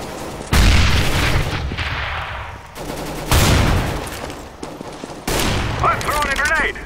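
Loud bursts of rapid gunfire in Counter-Strike: Global Offensive, three heavy volleys each starting abruptly and rattling on for a couple of seconds, with in-game effects mixed in between.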